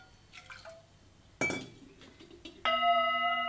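An antique metal singing bowl holding water is struck and rung: a faint clink and small drip-like sounds, then a sharp strike, and finally a loud, sustained ringing tone with clear overtones that carries on to the end.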